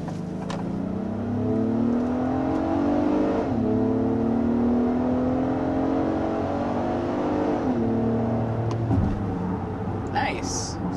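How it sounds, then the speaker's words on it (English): 2023 Acura MDX A-Spec SUV accelerating hard up a steep hill, its engine note climbing steadily through gear changes with brief dips at each shift, heard from inside the cabin and loud throughout. "we also were accelerating up a pretty steep hill there for reference"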